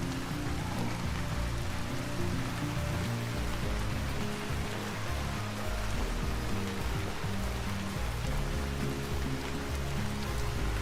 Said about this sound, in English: the rain really is such a relaxing sound here in Vintage